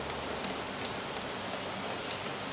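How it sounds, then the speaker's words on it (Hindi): Night rain falling in Mumbai, a steady dense hiss of drops striking surfaces nearby, constant and even throughout with no voices. "अभी बारिश हो रही है"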